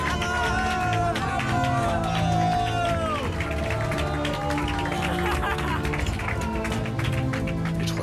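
A group claps together on arrival at a chapel, a steady dense patter of hands close by, mixed with lively voices and calls throughout.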